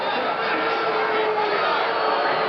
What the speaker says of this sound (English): I don't know what they're booing at.